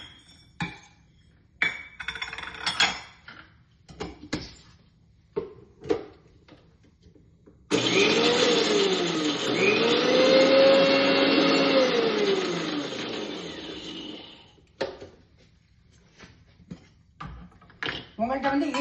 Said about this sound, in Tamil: நான் இப்ப மிக்சி ஜார்ல ஃபர்ஸ்ட் மிளகும் ஜீரகத்தையும் போட்டு அரைக்க போறேன்